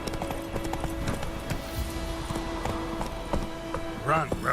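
Hooves of Roach, a horse in Witcher 3, clip-clop in a quick galloping rhythm across the ground, mixed with game ambience and a voice speaking briefly near the end.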